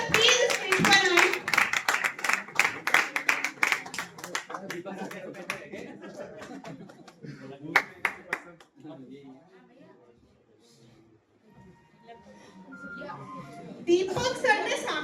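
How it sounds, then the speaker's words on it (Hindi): Audience clapping at a real estate awards ceremony as Deepak sir is welcomed onto the stage; a burst of claps under voices fades into chatter, then picks up again toward the end. "सभी जोरदार तालियां बजाएं।"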